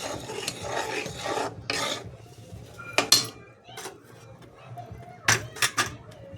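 A hardened jaggery syrup ball for sesame laddoos is tapped against a plate. Several sharp, hard clicks ring out over scraping and rubbing sounds in a kitchen, a couple of them in quick succession near the end.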